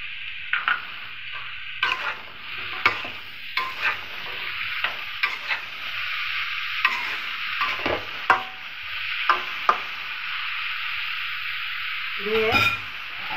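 Chopped onion fries in a pan, a continuous close sizzle broken by repeated sharp scrapes and knocks of a spoon stirring, with a louder clatter near the end and no talking.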